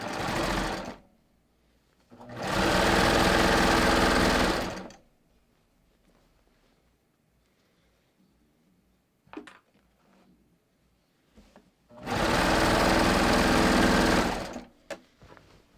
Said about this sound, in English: I'm just going to sew this crotch seam, not catching anything else.